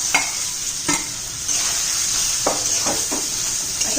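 Soya chunks frying in hot oil, a constant bright sizzle with a few sharp stirring clicks and scrapes, close up and alone.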